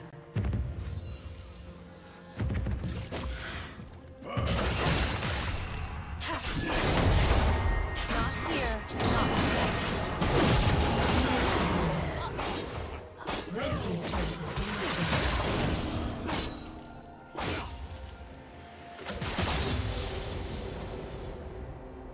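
Gangplank's cannon barrage from League of Legends, a rapid string of crashing, thudding impacts and mechanical clatter that stays loud and dense with brief lulls, mixed with game effects.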